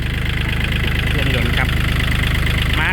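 A used Kubota L3218 tractor engine idles after a restart, giving a steady, near, throbbing rumble that runs unbroken through the whole short stretch.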